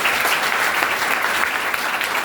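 Loud, dense applause from an audience at a motivational talk, continuous clapping filling the room without a break.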